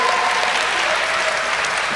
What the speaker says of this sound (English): Please give a round of applause for your panelists.